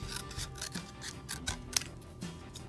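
Scissors cut through lamp-making material in a series of quiet, close snips and rubbing scrapes, with a sharp click near the middle.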